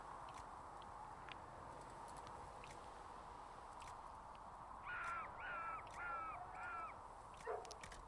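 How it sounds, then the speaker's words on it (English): Four harsh, evenly spaced bird calls ring out in the background of Dragon Age: Inquisition over a steady ambient hiss, followed by a lower squawk. "Birds just screaming off in the background."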